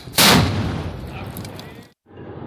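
A ceremonial cannon fired by hand in Uttar Pradesh for Ramadan sehri and iftar and urs flag rituals booms once, loud and close, then a long rumbling echo fades before a brief silence and distant ambient noise.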